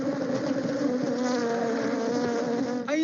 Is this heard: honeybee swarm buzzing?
yes